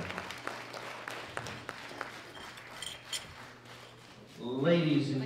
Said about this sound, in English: Big round of applause for Tetiana Slavko.